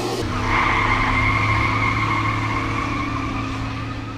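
A loud squealing tire screech rises over a rumbling tractor engine as the tractor spins its tires, sustained for a few seconds before slowly fading.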